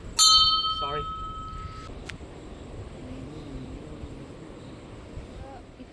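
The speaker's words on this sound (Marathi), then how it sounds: "वरची घंटी वाजवायची असते हो" A Ganesh temple bell is struck once and rings out bright and sustained, followed by a lighter second strike, with faint voices and ambient noise underneath.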